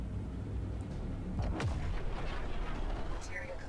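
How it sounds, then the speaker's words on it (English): Guns firing in the space video game Jump Ship, a dense rumbling barrage with a sharp burst partway through, heard under a low background hum. "He's good at shooting the guns."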